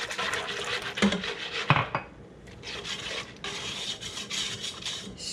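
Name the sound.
scraping the sides of a pot of chocolate pudding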